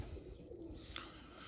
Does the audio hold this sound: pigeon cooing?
yes